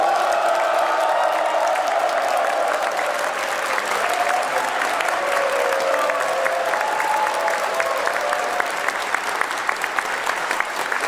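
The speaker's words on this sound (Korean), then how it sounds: "대통령 네 분의 환영을 큰 박수로, 큰 한으로 맞이해 주시기 바랍니다." A crowd at a Korean community gathering in China welcomes a presidential couple with sustained, loud, dense applause that holds steady for the whole stretch, with faint cheering mixed in.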